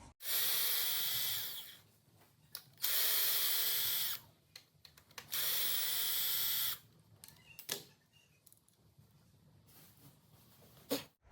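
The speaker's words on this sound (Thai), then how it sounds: "ปีกตัวนี้ คลายน็อตตัวนี้ออกก่อนนะครับ" A power tool whirs in three loud bursts of about one to two seconds each while a nut is loosened on a speargun being assembled, followed by scattered clicks and handling sounds.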